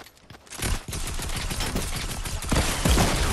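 Explosions and destruction in a Daredevil versus Kingpin video game fight inside Kingpin's lair, a dense, loud barrage of rumbling blasts and crackling bursts that swells stronger toward the end, with no talk.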